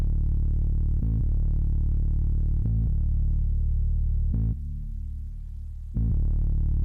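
Deep, heavy bass line in a beat being produced, booming sustained low notes struck in a slow repeating pattern, loud and alone, with a short drop-out near the end before the next hit.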